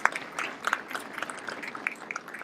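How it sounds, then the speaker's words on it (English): Scattered, fairly light applause from a small crowd at a child care center ribbon cutting, individual claps standing out in an uneven patter. "the staff at the facilities really deserves another round of applause"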